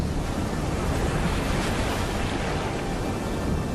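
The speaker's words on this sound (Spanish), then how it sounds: "Vimos como el agua giraba y giraba sin cesar, haciendo un ruido atronador al romper en las rocas." Roaring surf of a swirling whirlpool pounding against rocks, a dense, continuous thunderous wash with no breaks, loud and close throughout.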